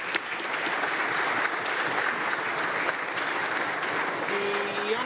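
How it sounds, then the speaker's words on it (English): Steady applause from members and guests in a legislative assembly chamber, dense and sustained clapping throughout with a brief spoken tail near the end. "Let's please give them a round of applause and welcome"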